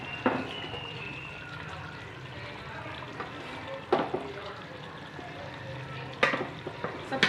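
Fresh spinach is stirred into chicken cooking in a pan for a chicken and spinach curry, giving a steady close sizzle and frying hiss with a few sharp scraping stir strokes rising above it.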